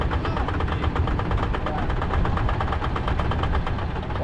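A big engine on a traditional sardine fishing boat runs loud and steady, with a fast, rough, throbbing chug that fills the whole stretch without pause.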